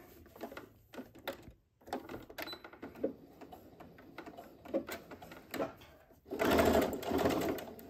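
A sewing machine topstitches a sports bag in short stuttering bursts separated by brief pauses, then runs in one louder continuous stretch near the end, close up.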